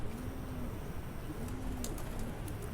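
Soft, low coos from a jumbo-sized Rampuri pigeon repeat a few times against steady background noise, fairly close and gentle.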